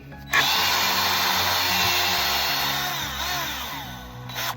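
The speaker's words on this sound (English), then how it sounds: "So I'm also countersinking them with a larger bit." A power drill with a larger bit countersinks screw holes in wood while roofing a cattle feeder, a loud, steady whine running close and alone for several seconds before cutting off.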